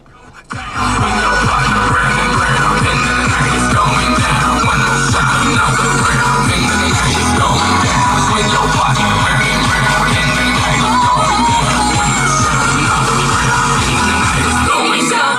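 Music plays loudly and continuously through the stock sound system of a 2012 Peugeot 308 1.6 HDi 92 Access five-door hatchback, with a steady thumping bass beat and dense full-range sound filling the cabin, no talking.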